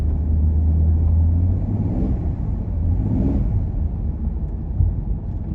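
A Ford EA Falcon drives with its transmission slipping a gear, a loud low engine rumble with road and wind noise inside the car, the revs surging and wavering for several seconds.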